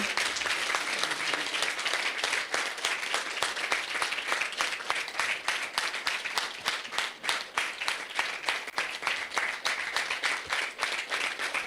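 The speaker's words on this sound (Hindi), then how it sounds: "जोरदार तालियां बजाओ" A large crowd claps loudly and continuously, a dense roar of applause with a steady rhythm.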